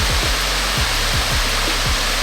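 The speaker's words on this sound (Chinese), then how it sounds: "这个是沃克兹海峡瀑布" Snowmelt water pours down a waterfall near the Sea of Okhotsk in winter Hokkaido, a loud, steady roaring rush filling the whole clip with low rumbling thumps beneath.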